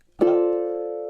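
Ukulele strummed in a down, down, up, chunk pattern: a single bright, ringing chord attack that sustains and slowly fades, close and clear with no talking.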